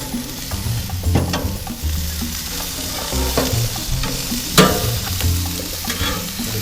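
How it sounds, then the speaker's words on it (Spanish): Beef burger patty sizzling in a hot pan while being cooked and flipped for a bacon pineapple burger, a steady close frying hiss with scraping and stirring clatter throughout, no talk. "La carne ya está casi caliente. Voy a dar de vuelta a la carne también una vez"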